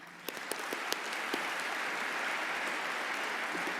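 An audience at a software engineering conference keynote breaks into applause, starting with a few scattered claps and swelling into a steady, even wash of clapping that fills the room.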